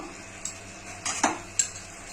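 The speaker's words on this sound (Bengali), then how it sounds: "এক এক করে মাছটা দিয়ে দেবো।" Pieces of tilapia go one by one into a pan of mustard curry, giving a few sharp utensil clatters and scrapes over a faint low simmer.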